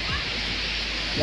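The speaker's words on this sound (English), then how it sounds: "that is the waterfall." A waterfall at Lake Nakuru gives a steady, dense roar of falling water, loud and continuous from start to finish with no break.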